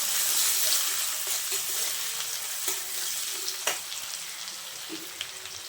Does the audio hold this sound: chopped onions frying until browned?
yes